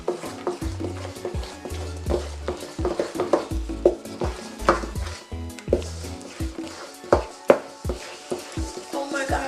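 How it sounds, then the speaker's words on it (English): A wooden spoon stirs sifted dry ingredients into a syrupy bonbon mixture in a pot, giving repeated scraping and knocking strokes at close range with a few louder clacks. "this is where the wooden spoon come in, and you just start incorporating that in"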